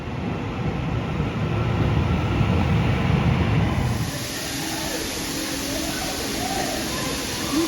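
A high-speed train bound for Edinburgh passes through a station without stopping: a loud, broad rushing rumble for about four seconds that eases into a lower, steady roar, with faint voices in the background.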